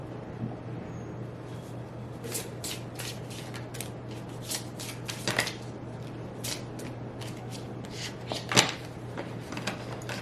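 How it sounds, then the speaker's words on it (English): Cards being shuffled in quick repeated bursts of crisp riffling and slapping over a low steady hum, with short pauses between rounds. "Shuffle them real quick."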